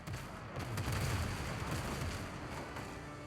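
Ship cannons in the pirate video game Windrose fire in a dense, rumbling barrage, a continuous low booming roar that swells and sustains without clear separate shots.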